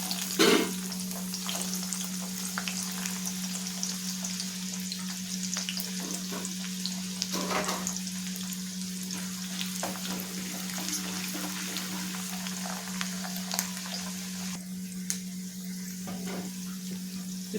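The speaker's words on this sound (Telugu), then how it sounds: "ఇప్పుడు సన్నగా కట్ చేసి పెట్టుకున్న ఉల్లిపాయ ముక్కలు వేస్తున్నానండి." Thin-sliced onion pieces and chana dal fry in hot oil in a pan, a steady close sizzle with occasional stirring scrapes and clinks and a constant low hum underneath, with no talk.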